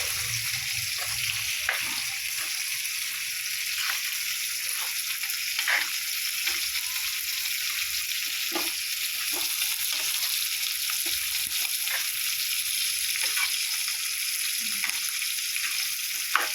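Mutton liver frying in a pan as cumin powder is stirred in, a steady loud sizzle throughout with occasional scrapes and clinks of the spoon, no voices.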